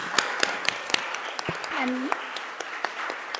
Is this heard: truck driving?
no